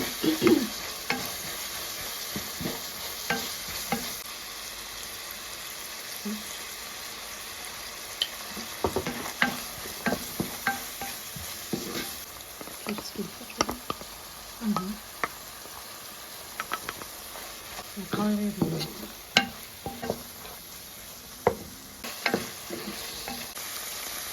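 Flour-and-ayran batter fries in hot oil with a continuous close sizzle. Irregular bursts of spatula scraping and stirring come and go, and a faint voice is occasionally present.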